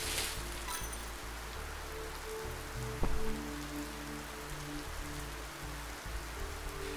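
Steady game rain from a summoned storm in Rogue Heroes: Ruins of Tasos, a continuous hiss of drops striking surfaces with a soft low rumble beneath and one brief sharp burst midway, no voices.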